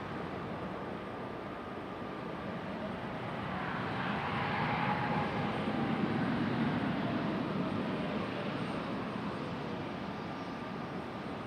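A JetBlue Airbus A220 jet airliner at Raleigh-Durham airport, a faint, steady distant engine roar that swells gently midway, heard from outdoors with no talking.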